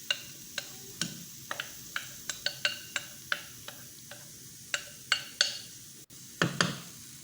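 Onions sautéing in melted butter in a non-stick pan, stirred with a spatula: a steady series of light, sharp taps and scrapes at a fairly even rhythm over a soft, quiet sizzle.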